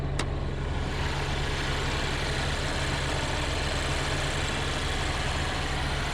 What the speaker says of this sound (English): Again, it's a 4-cylinder engine